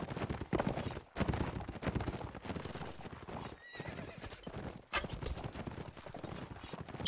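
Horses gallop in a video game battle between mounted and foot troops, a dense run of clip-clop hoofbeats with a brief whinny midway, steady and moderately loud throughout.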